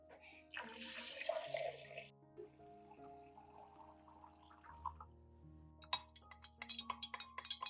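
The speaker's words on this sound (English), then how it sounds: "I will use about 3 spoons of rice, mixed with approximately 500 milliliters of clean water." Clean water poured into a container with a few spoons of rice, a trickling stream and splashes followed by quiet stirring and a run of small clinks and taps, faint and close.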